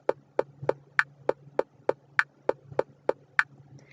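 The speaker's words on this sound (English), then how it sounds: "Whereas this is, your normal average straight beat." A plain straight-beat rhythm plays alone, with sharp percussive hits at an even pace, roughly two to three per second, over a low steady bass tone.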